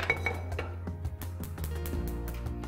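A pressure cooker, brought out in a home kitchen to boil mutton, is set down with several sharp metallic clinks over a steady low background hum, fairly close and without talk.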